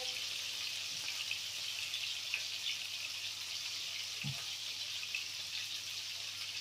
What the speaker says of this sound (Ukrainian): Фрикадельки мої вже посмажені.